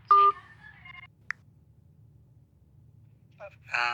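Telephone keypad dialing tones on a phone, a short beep burst at the start, a single click, then a quick run of tones near the end, close and clear over a low background hum.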